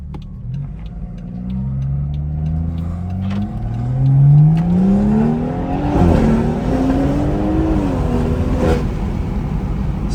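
BMW car with a B58 engine tuned to about 500 hp pulls under acceleration, its close, loud exhaust note rising steadily through the gears with brief dips at shifts and a deep low-end rumble throughout.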